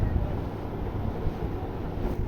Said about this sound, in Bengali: প্রচণ্ড হাওয়া দিচ্ছিল।